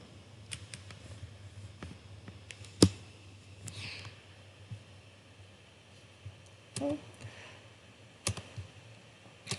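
Scattered keystrokes and clicks on a computer keyboard tap out in sparse, irregular bursts, faint and close against a quiet room background.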